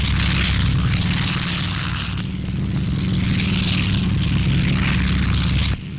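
WWII B-25 Mitchell bombers fly overhead in a period newsreel, their propeller engines making a loud, continuous droning roar that swells and fades slightly, with no talk.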